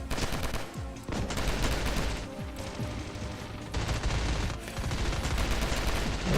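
Shotgun fire in the Ravenfield battle game booms repeatedly and loudly amid a dense, continuous wash of gunfire and explosions, with no pauses.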